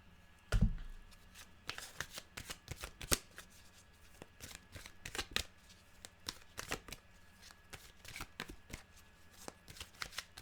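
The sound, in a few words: shuffling animal oracle cards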